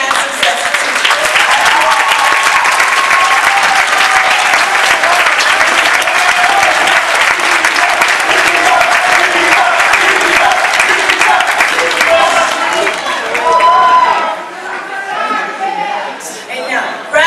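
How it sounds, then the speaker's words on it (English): A crowd at a 2015 college graduation ceremony applauds teachers with loud, sustained clapping and chatter, easing off briefly toward the end before a final burst. "please stand up and give them a round of applause"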